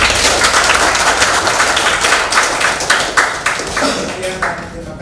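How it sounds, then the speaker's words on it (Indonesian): Audience applause at the opening of a school graphic design competition at a vocational high school in Maumere, with dense, steady clapping throughout and some talk mixed in. "dengan tepuk tangan kita bersama"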